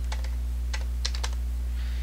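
A username and password typed on a computer keyboard, several quick clusters of key clicks separated by short pauses over a steady low electrical hum, with no talk.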